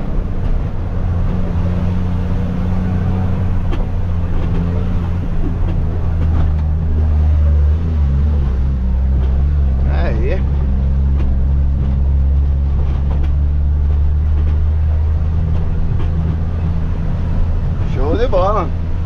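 A heavy truck loaded with 400 sacks of soybeans climbs a hill on a muddy farm road, its deep diesel engine droning loud and steady throughout while someone talks over it inside the cab.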